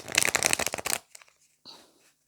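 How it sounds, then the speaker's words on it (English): Tarot cards are shuffled in a quick, crisp burst of riffling flutters lasting about a second, followed by a few faint taps and a soft shuffle afterward. "So let's shuffle the cards"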